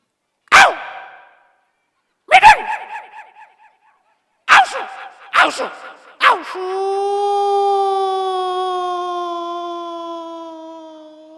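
A voice imitates dogs with several sharp separated barks, then trails into a long drawn-out howl that slowly fades.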